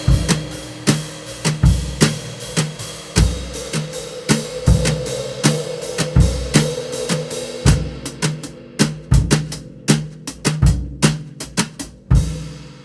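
A drum kit plays an exercise groove, with a kick on beat one, steady quarter-note cymbal strikes and the snare landing in dotted-quarter groupings of three. The sharp, close hits repeat in an even pattern throughout, with no talking.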